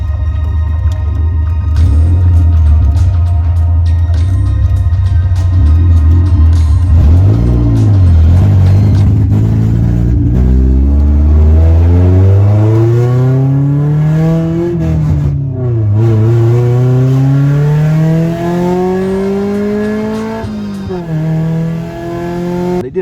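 A Honda Integra engine drones loudly through its exhaust, with rising and falling revs repeating several times in long sweeps.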